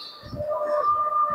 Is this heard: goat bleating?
no